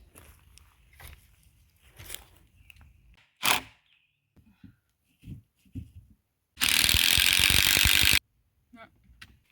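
Screws being driven into a wooden garden bed outdoors, with a loud steady whir of the drill lasting over a second, plus scattered clicks, knocks and shuffling around it.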